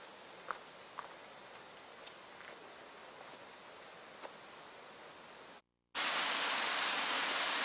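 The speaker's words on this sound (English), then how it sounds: "we've hiked down here to below the Indian Falls" Indian Falls, a waterfall reached by a hiking trail, gives a broad, steady rushing hiss that suddenly becomes much louder and closer near the end, with a few scattered footsteps and rustles in the quieter first part.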